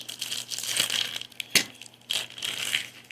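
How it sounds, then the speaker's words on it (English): A magnetic trading card holder being cracked open for a Topps Series 1 hobby box, with crinkly plastic handling and one sharp snap midway, followed by more rustling, close up and without talking. "crack open one of these mags"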